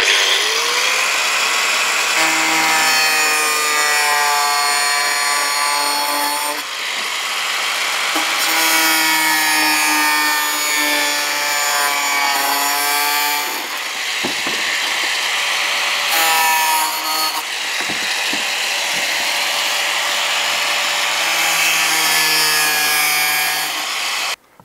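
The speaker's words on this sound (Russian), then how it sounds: "Вот этим диском мы сейчас будем резать наш угол наружный." A small angle grinder with a 125 mm diamond concrete disc cuts an outer corner of stone-look facade siding, a loud whining screech in long sustained passes with brief pauses and pitch dips as the blade bites.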